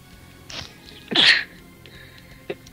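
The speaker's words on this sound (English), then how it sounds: "Oh, excuse me. I had to sneeze." One sharp, close sneeze bursts out after a small intake of breath, framed by quiet room noise and a few soft clicks.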